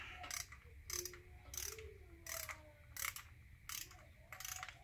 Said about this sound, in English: I already have the torque wrench all set and everything